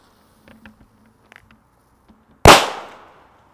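A Reiber firecracker goes off with a single very loud, sharp crack that trails off in a brief fizzing decay after a few seconds of quiet, faint sounds.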